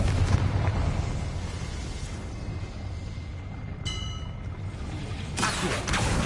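A Confringo blasting curse erupts in Hogwarts Legacy with a loud, sustained rumbling burst, followed by a brief bright crackle midway and another sharp blast near the end.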